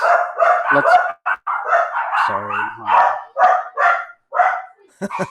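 A dog barks excitedly in a home, a close, loud string of sharp yips and barks with brief whimpers, and a person says a word over it.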